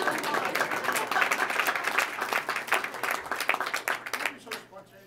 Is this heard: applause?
yes